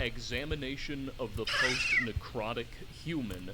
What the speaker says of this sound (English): I think my cat came in here and yelled at me.